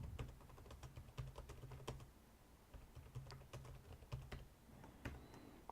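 Quick bursts of clacking keystrokes on a computer keyboard, fairly quiet and close, with short pauses between runs of typing and no voices.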